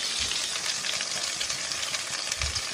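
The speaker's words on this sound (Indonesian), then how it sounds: "Nah kita masukkan bumbu yang sudah tadi kita haluskan, kita gongsong-gongsong." A ground spice paste hits hot oil in a wok, oil left from frying shrimp, and sizzles loudly and steadily with faint stirring scrapes underneath, no voices.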